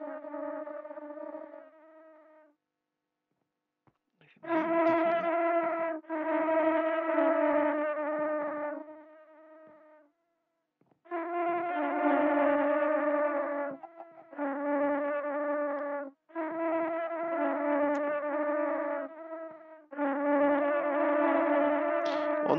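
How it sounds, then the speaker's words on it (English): Bees buzzing in the Minecraft video game, a steady harmonic hum that comes in several long bursts separated by short gaps, fairly loud and close with no talk over it. "There's lots of bees out there, isn't there? I can hear them."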